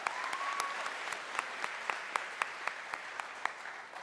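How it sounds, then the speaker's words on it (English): An audience at an academic awards ceremony claps for the yearbook, a moderate wash of applause with a few sharp individual claps standing out as it slowly thins. "Can we have a round of applause for the yearbook?"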